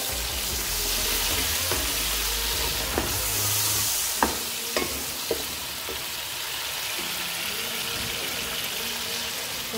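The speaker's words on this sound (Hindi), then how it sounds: "इसको थोड़ा सा पकाएंगे, और अब इसमें डाल देंगे हम टमाटर और हरी मिर्च" Tomatoes and green chillies fry in a pan for a restaurant-style chicken and lady finger (bhindi) curry, giving a steady close sizzle with a few sharp spatula clicks and taps scattered through, no voices.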